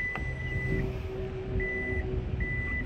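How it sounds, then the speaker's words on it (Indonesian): Three steady electronic warning beeps from a 2020 Toyota Fortuner diesel's power tailgate before closing, each a sustained high tone with pauses between, sounding over a low engine-like rumble. "ada peringatan dulu dia bunyi sebelum nutup"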